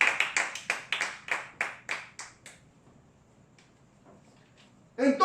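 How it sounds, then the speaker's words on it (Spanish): A church congregation claps in a quick, even rhythm for about ten beats, then the claps die away into near silence before a brief loud burst at the very end. "Démosle el más fuerte aplauso a nuestro Señor"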